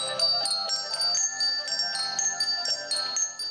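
Musical bells ringing a bright, quick melody, notes tinkling one after another with no voices.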